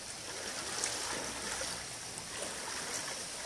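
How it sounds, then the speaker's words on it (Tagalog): A strong river current rushes steadily during Typhoon Ofel, a continuous broadband wash of water heard from some distance, even and unbroken with no voices. "Malakas yung agos."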